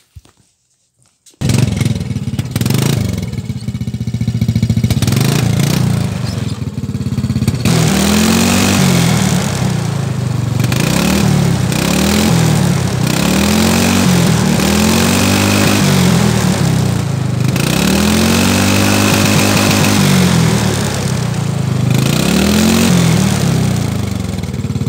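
A Ski-Doo snowmobile engine starts after brief silence, then idles and is revved repeatedly in loud rising and falling sweeps, meant to imitate a Honda Civic, close and alone without talking.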